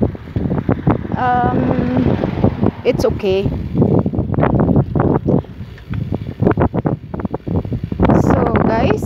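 Wind buffets the microphone outdoors in Styria, Austria, with a steady low rumble while a person talks over it almost continuously.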